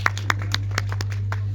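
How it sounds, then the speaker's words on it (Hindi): Sharp, separate hand claps from a small audience greet a student receiving a prize at a Republic Day ceremony, ringing out over a steady electrical hum. "अपना प्राइज पकड़ते हुए जोरदार तालियों के साथ इनका खैर मकदम करें"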